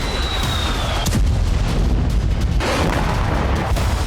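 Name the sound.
bombing explosions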